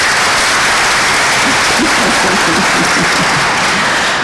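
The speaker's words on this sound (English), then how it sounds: "I want to give him another round of applause" An audience at a policy forum gives sustained, loud applause, dense and even from start to finish, with faint voices mixed into the clapping.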